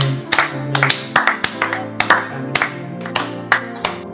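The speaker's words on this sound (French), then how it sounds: "Est-ce que nous pouvons donner une offrande d'acclamation au Seigneur?" A church congregation at a morning prayer service claps in rhythm as an offering of acclaim to the Lord, sharp beats landing evenly over sustained music.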